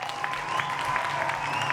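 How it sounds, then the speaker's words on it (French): Studio audience clapping on a kids' TV show, a soft, steady wash of applause at moderate distance with a faint tone lingering underneath. "Ils applaudissent bien, j'aime bien."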